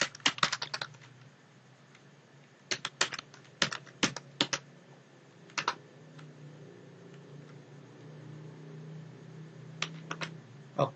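Keystrokes on a computer keyboard as a folder name is entered, coming in quick bursts separated by pauses, fairly close and clear over a low steady hum with no talking.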